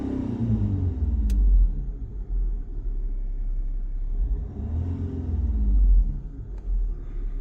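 A car engine is revved from idle during a diagnostic scan, a deep close rumble that swells twice with throttle blips and settles back between them.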